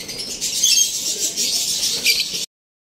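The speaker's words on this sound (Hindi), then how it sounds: "और एक कबूतर आ गया" Pigeon sounds with soft fluttering and rustling, steady and fairly close, cutting off abruptly after a couple of seconds.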